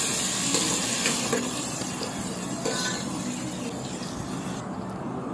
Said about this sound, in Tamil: வெங்காயம் நல்லா பொன்னிறம் ஆற வரைக்கும் நல்லா வதங்கட்டும்.